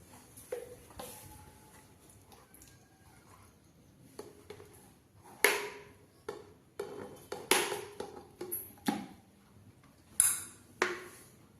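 Pickle being stirred into cooled tempered spices in a pot, a spoon scraping and clinking against the metal in scattered, uneven strikes, close and moderately loud over a quiet background.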